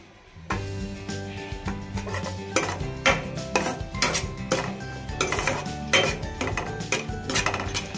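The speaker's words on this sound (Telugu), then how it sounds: "నల్ల కిస్మిస్, తెల్ల కిస్మిస్ కలిపి వేయించుతున్నానండి" Black and white raisins are stirred as they fry in a pan, with a metal spatula clanking and scraping against the pan in a quick uneven rhythm over a faint sizzle.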